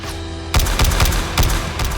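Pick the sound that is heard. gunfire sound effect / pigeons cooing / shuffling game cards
gunfire sound effect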